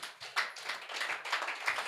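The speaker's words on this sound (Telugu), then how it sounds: "చప్పట్లు కొడదాం యేసేక." A church congregation claps their hands in a steady rhythm at moderate loudness, with no voices.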